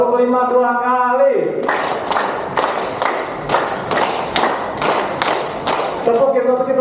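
Audience clapping together in a rhythmic pattern: about ten sharp, unison claps in steady sequence, with a speaking voice before and after.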